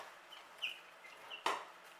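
Chickens, shut inside a chicken tractor, let out a few faint, scattered clucks and squawks in alarm at a small hawk nearby, ending with one sharper squawk.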